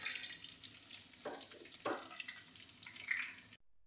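Garlic dropped into a hot pan for a Kerala-style fish curry, giving a steady close sizzle with two louder hissing bursts as it hits the oil, then a short stretch of silence at the end.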